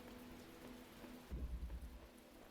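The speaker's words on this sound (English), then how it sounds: "I like the moody rain." Moody rain falls steadily in The Talos Principle video game, a quiet, even hiss of drops with a brief low rumble partway through, no voices.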